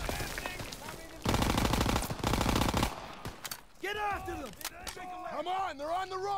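A Thompson submachine gun fires in a World War II Normandy video game, two loud sustained bursts of rapid automatic fire, followed by someone speaking.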